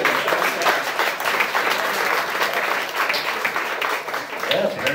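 Audience applause fills a game show studio at Asylum NYC, a dense, steady wash of clapping close and loud throughout, with faint voices mixed in.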